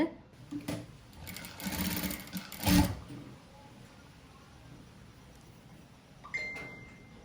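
A sewing machine runs in short bursts while stitching saree blouse lining fabric, with a louder whirring stretch early on followed by quieter mechanical clicks and handling noise, close to the microphone.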